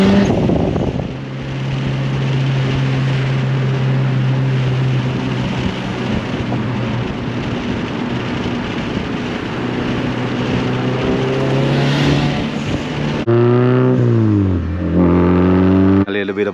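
A Honda Civic making 360 wheel horsepower, fitted with a Vibrant resonator exhaust, drones steadily at close range, then revs up and falls back near the end.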